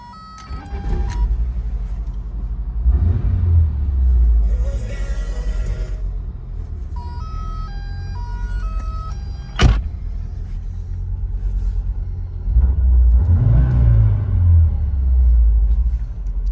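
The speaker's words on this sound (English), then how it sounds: "warm start of the VW Quantum Wagon and testing of features." A warm 1983 VW Quantum Wagon engine cranks and starts, settling into a steady idle rumble, with whirring motors and clicks as features are switched on, and another engine surge near the end.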